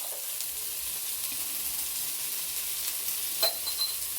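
Ingredients softening in a pan with salt for a fish molly, giving a steady soft sizzle throughout with a few small clinks of stirring near the end; no talking.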